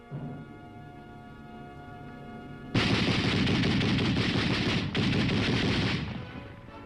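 A 30 caliber machine gun fires a sustained loud burst lasting about three seconds, with a brief break, then trails off, after a quieter stretch of low rumble.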